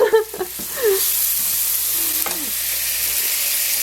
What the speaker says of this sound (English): once it kind of gets mixed in, I'm going to add the tomato paste to it